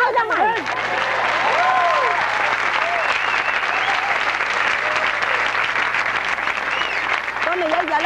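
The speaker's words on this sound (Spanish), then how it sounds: "¡Aplausos, ma!" Audience applause at a live stage show, continuous even clapping throughout with a voice talking over it at the start and again near the end.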